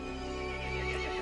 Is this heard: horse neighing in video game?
yes